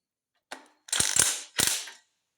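A ratchet wrench loosens a spark plug on a Simplicity Sunstar loader engine with a brief click, then two quick bursts of rapid, close ratcheting clicks, and no one speaks.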